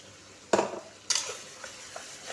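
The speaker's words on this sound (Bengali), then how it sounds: "এরপর অ্যাড করে দিচ্ছি তিনটে মিডিয়াম সাইজের পেঁয়াজ, একটা টমেটো আর কিছু কাঁচা লঙ্কা দিয়ে বেটে রেখেছিলাম" Ground paste of onion, tomato and green chili frying in a pan, two sharp spatula scrapes followed by light clinks and a soft sizzle, close and with no voices.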